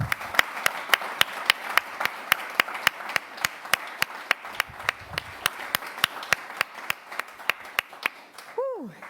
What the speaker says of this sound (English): Can we get one more round of applause for this grant?